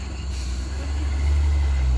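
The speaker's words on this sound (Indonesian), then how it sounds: "Nampak truk tangki ini pun sudah tua kali ini bosku, sehingga tenaganya sudah berkurang" An old Fuso tank truck's engine strains under load, a deep, loud, continuous rumble that grows heavier, with a brief hiss at the start.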